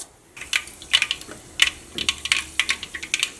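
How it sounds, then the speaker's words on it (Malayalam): Mustard seeds pop and crackle in hot oil, sharp irregular snaps coming in quick bursts close by, with no talking. "ഫസ്റ്റ് ഞാൻ കടുക് പൊട്ടിക്കുന്നുണ്ട്."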